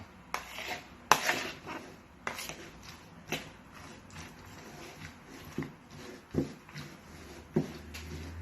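A utensil scrapes and clinks against a bowl while stirring an egg and chopped vegetable mixture for flourless veggie pancakes, in irregular taps and scrapes close by, with no talking.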